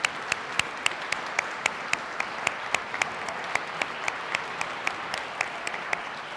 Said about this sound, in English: let's give a big round of applause for this choir.